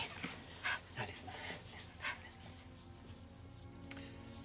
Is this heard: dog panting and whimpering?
yes